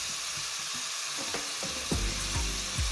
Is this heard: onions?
yes